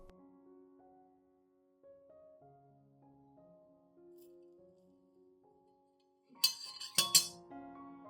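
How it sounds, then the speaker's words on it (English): Coffee grounds spooned into a clean glass cup, heard as a brief burst of clinks and scraping on glass near the end, faint and close, after a stretch of quiet. "I add 1 teaspoon of coffee grounds into the clean glass cup."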